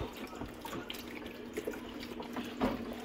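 Wine and beef stock pour into a roasting pan for a Christmas prime rib, a steady liquid trickle with light splashes and drips, moderately close and without voices.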